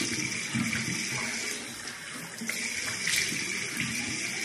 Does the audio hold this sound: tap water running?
yes